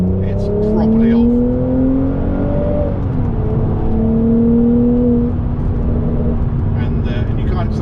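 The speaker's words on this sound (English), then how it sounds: "So I'll give it some throttle now." A Mercedes-Benz SL400 engine pulls hard under throttle from inside the car, a loud rising drone that shifts pitch once mid-run and then keeps climbing steadily, with a voice briefly heard.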